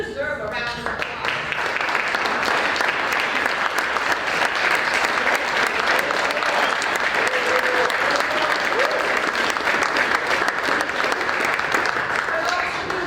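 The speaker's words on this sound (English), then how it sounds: "You deserve a round of applause." Sustained audience applause at an awards luncheon honoring level 5 completions, many hands clapping steadily and loudly for over ten seconds, with a voice briefly audible at the start and faint tones underneath.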